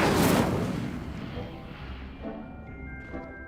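Casting the Incendio fire spell in the video game Hogwarts Legacy sets off a loud whooshing burst of flame that fades over a few seconds, with a brief voice and faint tones underneath.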